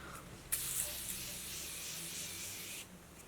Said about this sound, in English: Take some of the Morphe Continuous Setting Mist